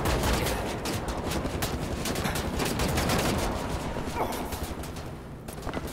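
Rapid bursts of gunfire in the video game Wolfenstein: The New Order, fired from a silenced pistol, crackling densely and continuously at close range with no talk.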